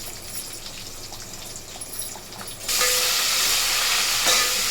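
Green chilies frying in a pan for pappu charu, a soft sizzle that jumps to a loud, steady hiss partway through as the frying intensifies.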